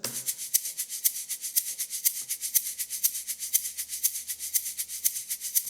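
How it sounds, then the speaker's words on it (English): A shaker rattles in a steady, quick rhythm, bright and hissy, with a light roomy reverb trailing each stroke; no voices. "if we listen to our shaker with this light percussion reverb option"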